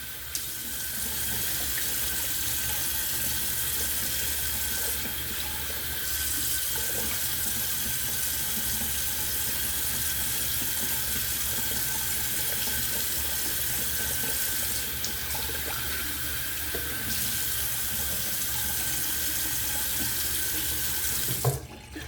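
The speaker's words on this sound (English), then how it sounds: "Cold water rinse." Cold tap water runs steadily into a bathroom sink for a rinse after a wet shave, a close, continuous splashing hiss that barely changes, with no talking over it.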